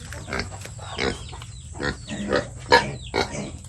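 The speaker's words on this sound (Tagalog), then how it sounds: "Ito may mga alaga din silang baboy." Pigs on a small farm grunt and oink repeatedly in short irregular bursts, close by and moderately loud, with faint background noise.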